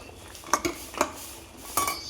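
A spoon scrapes and clinks against a pan while prawn malai curry is stirred over medium heat, a few close metallic knocks over a low sizzling background, no voices.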